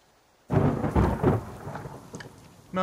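Video game thunder from The Forest rumbles in suddenly after near silence, a deep rolling boom that fades, followed by a second burst at the end.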